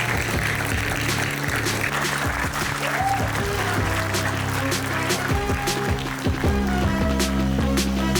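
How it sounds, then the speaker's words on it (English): Audience applause for Pedal Start, the winning team on stage at a startup challenge demo day finale, a sustained, fairly loud wash of clapping from a crowd with faint voices and hall noise underneath. "a round of applause to Pedal Start"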